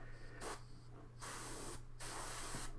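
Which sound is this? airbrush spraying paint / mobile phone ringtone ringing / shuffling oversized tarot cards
airbrush spraying paint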